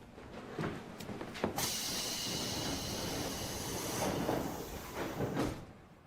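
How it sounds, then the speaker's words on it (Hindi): A train pulling into a station platform that has platform safety doors, heard as a broad rumbling, hissing roar that swells and holds steady, with a few sharp clanks and knocks on top. "ट्रेन अब आ रही है।"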